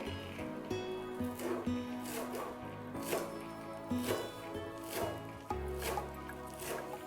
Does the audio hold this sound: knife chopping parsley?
yes